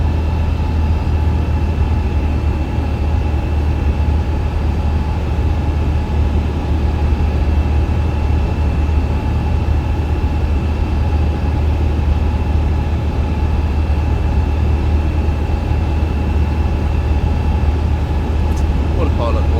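Airbus A350-1000 engines at climb thrust in the MSFS 2024 flight simulator, a Virgin Atlantic flight departing New York JFK: a loud, steady, low jet drone runs unbroken throughout, with a faint brief tone near the end.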